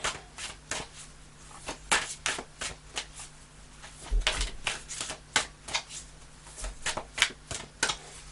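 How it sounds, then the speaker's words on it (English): Cards being shuffled in repeated quick riffles and flutters, close and crisp, with a steady low hum underneath and no talking. "I'll do a couple more shuffles and then I'll choose if a card doesn't come out."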